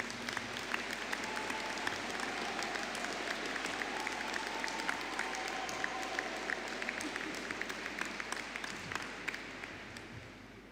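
Graduation ceremony audience gives a sustained collective round of applause for the Applied Biosciences honours graduates, dense steady clapping filling the hall at moderate distance with a faint murmur of crowd.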